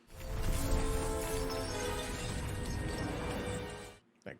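Glass smashing and shattering during a Star Wars: The Clone Wars episode, a loud dense crash that rings on for about four seconds before cutting off, with a faint clink after.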